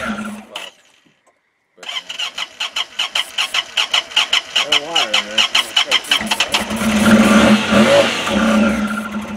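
A Honda Pioneer 1000 side-by-side engine cranks in a long run of rapid rhythmic starter pulses after a brief pause, then catches and revs up loudly, with people talking nearby.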